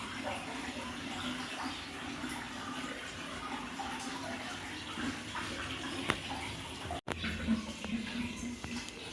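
Water filling up through a tight pipe at home and spilling over, a continuous rushing, gurgling flow heard close and steady, briefly interrupted by a sharp click midway.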